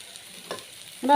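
Ground coriander added to a green gram curry crackles faintly in a pan, with a soft stir midway and a louder scraping, sizzling burst at the close.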